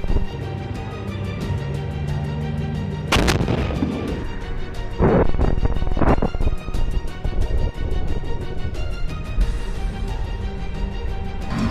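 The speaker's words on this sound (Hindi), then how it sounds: "जैसे ही आईडीएफ का टैंक वहां आता है वैसे ही बारूद में ब्लास्ट हो जाता है, जिससे टैंक में जोरदार धमाका होता है" An IDF tank is hit by detonated explosives during Israel–Hamas war combat. Several heavy, rumbling blasts burst out over a constant dense background roar, each one loud and close.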